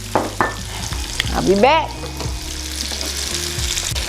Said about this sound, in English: I'm still sizzling up here